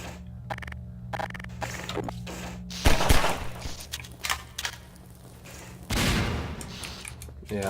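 Grenade explosions in the video game Half-Life 2, two heavy booming blasts a few seconds apart over steady game background noise, each followed by a rumbling tail.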